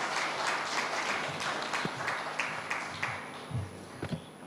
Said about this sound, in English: please join me in a round of applause for our panelists